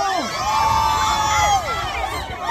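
A rally crowd at a Duterte prayer rally in Toronto yells and cheers all at once, a dense, loud wall of overlapping voices and whoops.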